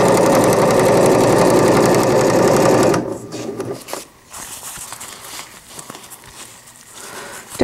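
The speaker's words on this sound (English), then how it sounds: "just hold it down with your fingers and sew it closed" A sewing machine runs fast and loud for about three seconds while stitching an AIO cloth diaper closed, then stops, leaving quieter handling noises and faint rustling.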